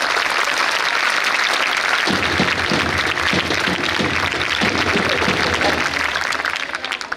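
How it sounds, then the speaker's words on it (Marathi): An audience at a retirement function claps together in appreciation, steady loud applause throughout, with a voice speaking over part of it. "त्यांच्या या दयाळूपणाबद्दल एकदा सर्वांनी टाळ्या वाजवा बरं."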